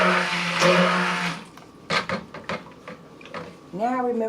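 A stick blender whirs with a rising whine that cuts off, followed by clunks and knocks, then the motor starts up again, rising in pitch.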